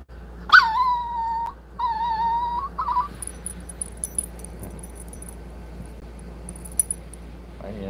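A Chihuahua lets out two long, high whining cries in quick succession, then a shorter whimper, followed by quieter jingling and shuffling.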